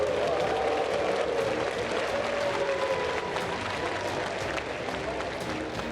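A large crowd at the presidential inauguration of Prabowo and Gibran, cheering and applauding in a dense, continuous roar that holds steady and then eases slightly near the end.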